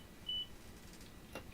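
In a train simulator game, a short single electronic buzzer tone sounds once, clear above a low steady hum of the cab and engine.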